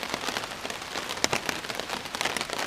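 Rain falls steadily on a campsite with hammocks, a dense close patter of drops with occasional louder splats, heard alone without talk.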